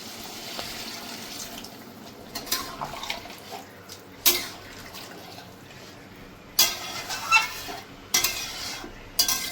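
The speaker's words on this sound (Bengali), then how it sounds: "এবার আমি দিয়ে দেবো গরম জল।" Hot water goes into a pan of mutton curry that has been frying down, with stirring scrapes and clatter, bursts of hissing sizzle and watery splashes rising in loud spurts over a quieter bubbling background.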